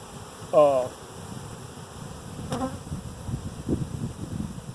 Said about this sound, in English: There's still a couple bushels of bees.